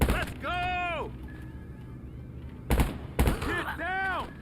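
Gunfire in GTA 5 Online: two sharp, loud gunshot bursts close together near the end, between stretches of voiced shouting and game sounds.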